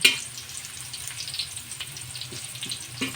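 Garlic and onion fry in a pan, a quiet steady crackling sizzle with scattered small pops, heard close and alone with no talk.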